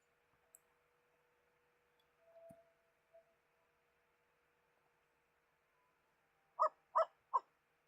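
A Rottweiler named Leroy in The Sims 4, set up as playful, energetic and loud, lets out three quick, punchy barks close together after a long near-silent stretch with a few faint clicks.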